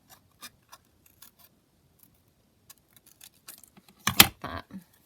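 Scissors snip through a paper collage tag with a bird garden print, first as scattered light clicks, then a cluster of crisp, close cuts near the end.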